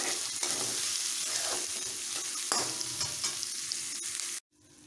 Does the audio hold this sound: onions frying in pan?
yes